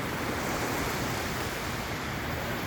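Sea waves wash onto a beach during a Friday morning walk, a steady, dense roar of surf with wind and no voices.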